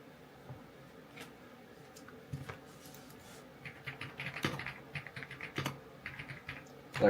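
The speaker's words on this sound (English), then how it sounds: "Like a ASMR stream with the keyboard clicks in the background too" Computer keyboard typing, a rapid run of light clicks that starts sparse and builds into steady, denser tapping, close and soft under a quiet room with no talk.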